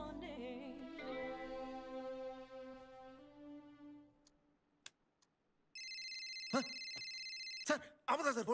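A mobile phone ringtone plays from about 5.7 seconds as a steady, sustained electronic tone, loud and close. Music fades out before it, and there are a few clicks and rustles near the end.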